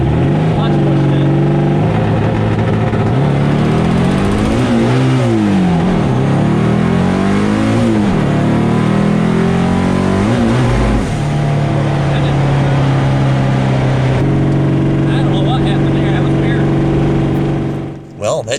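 1956 Volkswagen Beetle engine revving hard through flat shifts, loud rising and falling revs with sharp pitch drops between gears, ending in a steadier drone and a sudden cut.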